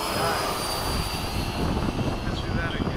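Freewing 90mm F-15 RC model jet flies overhead, a steady loud ducted-fan whine and rush, with people talking underneath.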